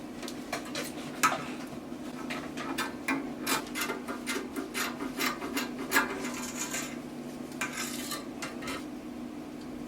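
Scissors snipping through dress fabric while cutting out pattern pieces for a keyhole neckline dress, a close, quiet run of rapid rhythmic crunching cuts with soft rustling of cloth.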